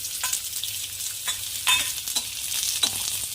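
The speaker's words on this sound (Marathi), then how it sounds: "आता यामध्येच आपण एक कांदा चिरलेला भाजून घ्यायचा आहे" Chopped onion frying in oil alongside peanuts for a rustic ridge gourd curry, a continuous bright sizzle with a few light stirring knocks, close and steady without speech.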